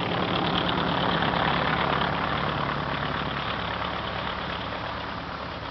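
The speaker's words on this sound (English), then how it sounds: "A 1902 Renault shows its paces." A 1902 Renault engine chugs and runs continuously with a rough, knocking rhythm at the 1958 European Grand Prix at Spa-Francorchamps, fairly close, gradually fading a little toward the end.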